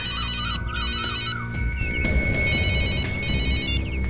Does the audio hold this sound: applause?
no